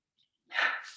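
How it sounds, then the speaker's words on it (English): Several dogs break into a loud, sustained howling chorus with barks mixed in, starting abruptly after near-silence and carrying on close by, without talk over it. "my dogs have started singing"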